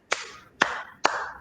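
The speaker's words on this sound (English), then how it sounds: "Let's clap it in." Three sharp claps in slow, even succession during a basketball skills lab session, close and distinct with short decays between.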